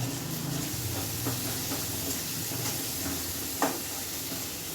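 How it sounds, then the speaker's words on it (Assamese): Fish head frying in oil with salt and turmeric, a constant hissing sizzle with occasional soft stirring knocks and a sharper clink near the end, close with no voices. "এইখিনি ৰঙচুৱা হোৱালৈকে আৰু অলপমান সিদ্ধ হোৱালৈকে ভাজিব লাগিব"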